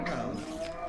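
A single sustained moo from a cow in the Minecraft video game plays over a dense bed of other game sound.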